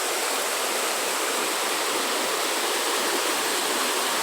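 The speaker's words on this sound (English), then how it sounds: "Here we are at the waterfall" A waterfall in Lamington National Park rainforest roars loudly and continuously, a dense, close, unbroken rush of falling water with no voices.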